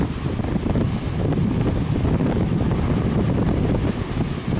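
Strong storm wind roars and buffets a microphone on a boat at sea, a dense, constant rushing noise with the wash of waves beneath and no speech.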